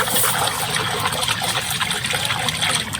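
Water with compost preparations being stirred in a bucket at a biodynamics workshop, a continuous loud swirling and trickling churn, close and steady throughout without talk.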